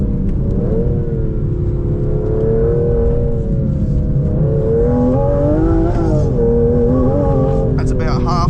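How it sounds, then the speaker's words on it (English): A 2025 Aston Martin Vanquish engine at full throttle from inside the car, a loud, rising roar that climbs steadily and then bounces off the rev limiter near the end, heard under someone talking. "full throttle, bounce off the rev limiter"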